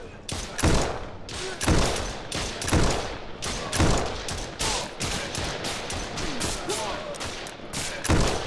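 Rapid gunfire in the zombie survival video game 7 Days to Die, a string of loud, sharp shots at uneven intervals, close and dominant, with dense crackling between the reports.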